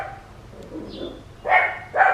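A dog barks in a home garden where kudu wander in, two sharp barks near the end after a faint whine, moderately distant and heard alone.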